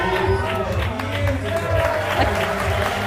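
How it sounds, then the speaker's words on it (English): A crowd at an indoor climbing competition cheers and applauds loudly and steadily throughout, with a commentator's voice talking over the noise. "The crowd are happy with that."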